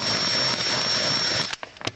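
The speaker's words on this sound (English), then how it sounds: "So Dave's basically whacked his drill straight through the bottom of that bottle" A power drill spins through the bottom of a plastic bottle with a steady, high, whining buzz for about a second and a half, then stops, followed by a few short knocks and clicks.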